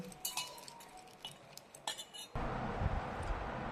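A spoon clinks lightly against a metal vessel as a tempering with curry leaves is stirred into bean sundal, a few sharp taps in the first half, then a steady loud sizzle-like wash of noise takes over.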